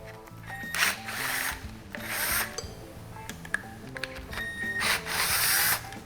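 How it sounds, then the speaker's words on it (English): A power tool whirs and ratchets in several short bursts while backing out two front cover screws on a Wizard FCS steering kit, with clicking mechanical sounds between the bursts at close range. "I'm gonna remove these 2 front screws"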